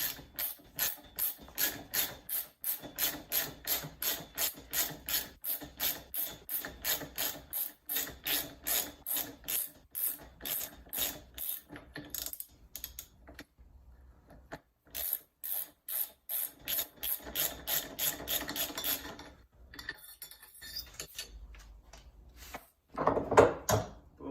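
Ratchet wrench with a 30mm socket working on a 2014-2017 RockShox Pike RC suspension fork: a long run of loud, fast, even ratchet clicks in bursts, pausing around the middle, then a few more clicks near the end, with no talking.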